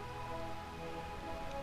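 Continuous rainfall in the rain-soaked realm of Promethea from Final Fantasy IX, an even wash of hiss mixed with sustained musical tones, without pause across the short stretch.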